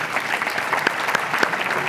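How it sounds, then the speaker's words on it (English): An audience at a housing-industry panel discussion claps together, giving a short, even burst of dense applause that holds steady and stays loud throughout. "Let's give Dana a big round of applause."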